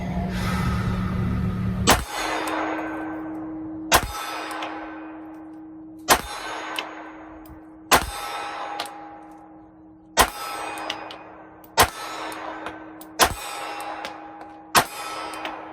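Glock 48 pistol shots hit a large steel target, each sharp impact followed by a long ringing clang that decays, about eight hits spaced roughly two seconds apart, loud and close.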